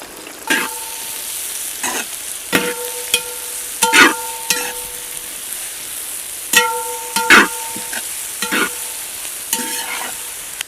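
Chopped onions frying in oil with mustard seeds in a large cooking vessel, with repeated ringing metal scrapes of a ladle stirring over a steady sizzle, no voices.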